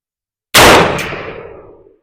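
A single loud, sharp rifle shot from a .223/5.56 Anderson AR fired at a target, with a sudden crack followed by a ringing decay that fades over about a second and a half, no talking.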